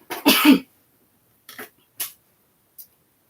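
A person with a sore throat coughs once hard, then gives three short, softer coughs spaced apart in a quiet room.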